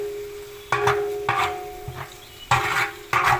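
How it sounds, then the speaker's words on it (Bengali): Onions deep frying for biryani berista, a steady hiss of hot oil broken by several louder bursts of sizzling and stirring clatter, close up with no talk. "এটাকে ডিপ ফ্রাই নিয়ে নেবো, ডিপ ফ্রাই করবো এটাকে।"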